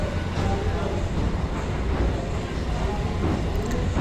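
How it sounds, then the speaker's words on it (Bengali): A train rolls slowly over a railway bridge at Chalan Beel in Pabna, Bangladesh. A continuous broadband rumble with faint clatter runs throughout at moderate distance. "এখন ট্রেনটি আস্তে আস্তে ধীরে ধীরে"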